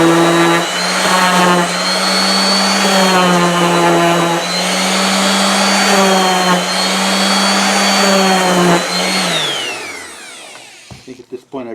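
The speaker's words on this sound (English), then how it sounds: "I'd really like a little bit less powerful sander" A powerful electric sander works on a wooden snowflake ornament, giving a loud, steady high-pitched whine that wavers slightly in pitch as it bears on the wood, then winds down at the end with a few small knocks.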